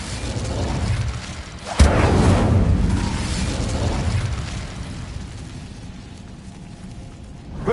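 The Incendio fire spell in Hogwarts Legacy, a sharp crackling burst followed by a roaring whoosh that fades over several seconds beneath low game ambience.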